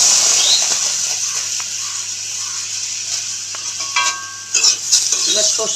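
Bitter gourd frying in a wok, with a loud, close, continuous sizzle and a few clinks and scrapes of a utensil against the pan.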